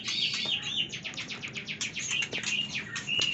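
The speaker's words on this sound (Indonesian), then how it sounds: "itu anakan burung gereja yang telurnya saya titipkan di telur murai batu" House sparrow chicks chirp in rapid, high, overlapping bursts, close and fairly quiet, a busy nest of peeping with no talking.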